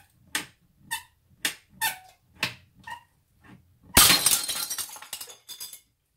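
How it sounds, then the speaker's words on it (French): A ruler is bent until it breaks, showing earthquake rupture: a series of faint creaks and squeaks build up, then a sharp loud snap with brief clattering afterward. "vous allez entendre le bang, c'est-à-dire le bruit de la rupture"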